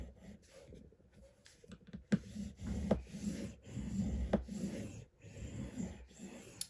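A knife or scoring tool drawn firmly across a thick board, several separate rubbing scrapes close by with brief pauses between strokes.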